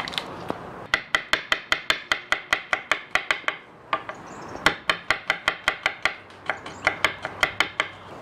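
Garlic cloves being smashed on a kitchen board while preparing South African bobotie: a rapid, steady series of sharp, close knocks, broken by a brief pause midway before the strikes resume.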